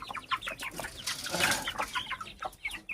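Hen clucking in a backyard flock, a run of short, busy clucks and squawks close by with some wing flutter, no talk.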